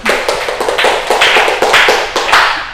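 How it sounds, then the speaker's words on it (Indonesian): A classroom of students claps for a classmate, a loud burst of close, sharp hand claps in quick uneven rhythm swelling and fading in waves, with no talking. "tepuk tangan buat Mbak Lutfi ya"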